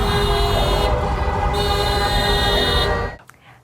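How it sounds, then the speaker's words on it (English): Car horns honk steadily across San Antonio streets in celebration after a Spurs win, a dense, continuous blare of traffic horns that cuts off abruptly near the end. "the honking cars all around San Antonio following yesterday's win"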